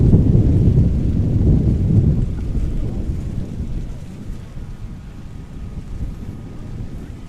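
Steady rain and wind noise at an outdoor high school championship football game, Clearwater Academy Knights against Tru Prep, a broad wash that is loudest at first and then settles into a softer continuous hiss.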